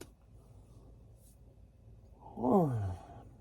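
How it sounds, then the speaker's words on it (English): A quiet, drawn-out yawn rises near the end, a breathy voiced exhale sliding downward in pitch against a faint background hum. "I tried to hide that yawn."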